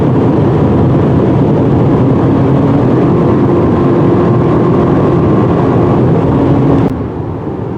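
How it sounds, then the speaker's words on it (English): A 2019 Acura RDX AWD SUV engine revving hard in sport mode, a loud steady drone held for several seconds that cuts off abruptly near the end. "This engine does like to rev, and in the sport mode this transmission does like to shift."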